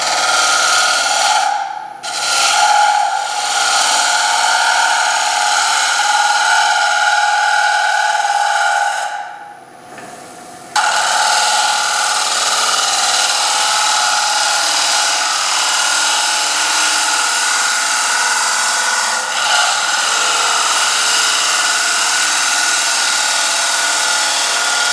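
A sharp steel gouge cuts a turned wooden bowl on a lathe with a steady, loud, continuous shaving hiss, broken by two brief pauses near the start and middle before the cut resumes evenly.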